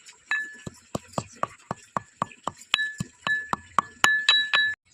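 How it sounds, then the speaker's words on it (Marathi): Ginger and garlic pounded into a paste, heard as a close, steady run of about fifteen sharp clinking strikes at an even rhythm, with faint ringing tones between some blows. "मी इथे आलं लसूणची पेस्ट करत आहे"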